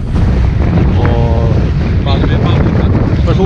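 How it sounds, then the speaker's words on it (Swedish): A strong storm wind buffets the microphone on a fishing outing, a loud continuous low rumble with gusting pressure, while people talk faintly underneath. "nu blåser det stormen"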